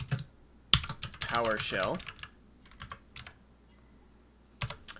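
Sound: typing on a computer keyboard

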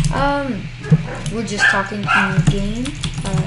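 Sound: dogs barking

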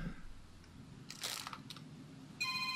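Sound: telephone ringing

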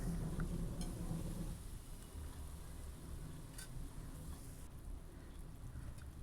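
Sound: onion and tomato frying in a pan

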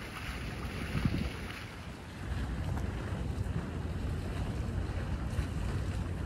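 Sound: wind blowing in a park

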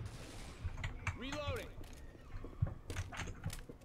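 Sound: shotgun shooting in Left 4 Dead 2 video game

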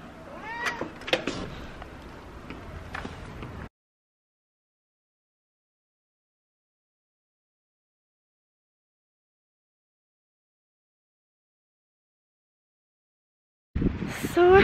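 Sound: cat meowing

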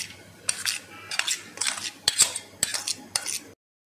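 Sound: mixing spice masala in a bowl

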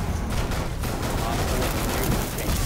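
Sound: gunfire in the video game Rainbow Six Siege

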